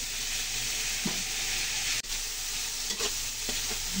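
Vegetables for pinakbet sauté in a little cooking oil, giving a continuous close sizzle with a few soft stirring scrapes and light knocks of a utensil against the pan.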